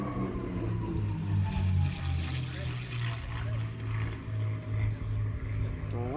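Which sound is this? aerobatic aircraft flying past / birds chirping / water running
aerobatic aircraft flying past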